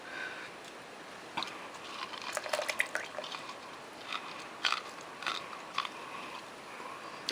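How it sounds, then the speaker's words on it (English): Teeth squeeze juice from a piece of food in short, wet bursts of biting and squishing, faint and close, with a few drips and crunches scattered across quiet pauses. "I may or may not have just squeezed that with my teeth."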